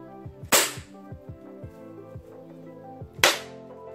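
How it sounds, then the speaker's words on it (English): A coconut cracked open with two loud, sharp hard blows about three seconds apart, between lighter ringing knocks and taps, close by with no talking. "breaking a coconut, oh god, it's gonna make a loud noise"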